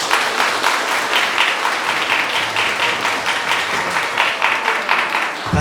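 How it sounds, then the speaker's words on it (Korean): Wedding guests applaud steadily at a ceremony right after the couple is pronounced married, a dense, continuous clapping that holds at full strength throughout. "큰 박수 부탁드립니다."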